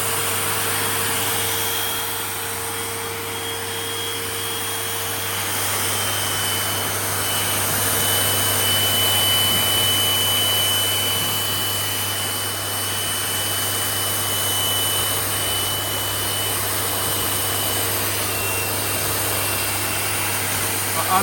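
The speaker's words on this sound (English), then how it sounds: "I'll turn off the pump in a second." A Bestway Lay-Z-Spa hot tub air pump drones loudly and continuously with a steady hum and whine, holding the same level throughout without pauses.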